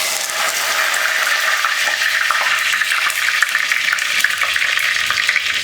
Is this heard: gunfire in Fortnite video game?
no